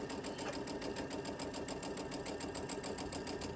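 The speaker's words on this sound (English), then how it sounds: "let's bring this over to my sewing machine" A sewing machine fitted with a 1/4 inch foot stitches a quilt block for a sweatshirt, running in a fast, even mechanical whir with rapid regular needle pulses, close and continuous.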